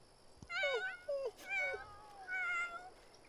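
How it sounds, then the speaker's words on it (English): A pet cat in The Sims 4 meows several times in quick succession, the cries clear and close with short pauses between them and no talk over them. "No, there's a cat."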